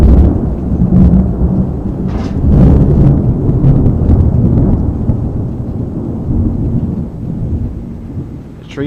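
Thunder rolls and rumbles through a summer thunderstorm, a deep, continuous, loud growl with bursts of crackle, under steady rain and some wind buffeting; no one speaks.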